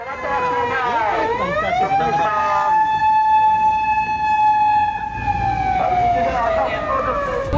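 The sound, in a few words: ambulance siren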